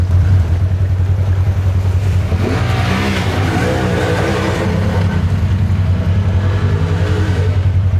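A vehicle on bald tires drives through a rain-swollen creek, its engine rumbling loud and close under a wash of splashing water that swells midway and then holds steady.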